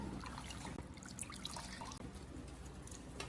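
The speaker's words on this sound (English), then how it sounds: "Change the water and rinse them again 1-2 more times to be sure they're safe." Water runs and trickles over green onions in a strainer at a kitchen sink, a faint, steady splashing wash with small drips throughout.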